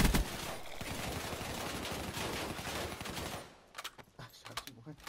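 Dense, continuous automatic gunfire from the Black Ops 3 video game fills most of the stretch, loud and rapid, then breaks off into a few scattered shots near the end.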